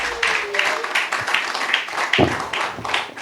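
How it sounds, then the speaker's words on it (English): Clapping from guests at a formal rebrand event as the next speaker is introduced, a brisk, fairly close round of applause with scattered individual claps and faint voices mixed in. "A round of applause."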